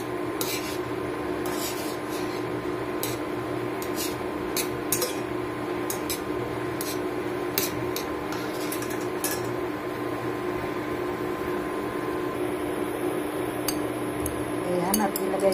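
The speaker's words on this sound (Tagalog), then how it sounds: "Lagay natin yung noodles. Ayan, at ating halu-haluin." Noodles stirred in a pot, a long run of light scraping and clinking taps from the utensil against the metal, irregular and close, over a steady hum from the stove or kitchen.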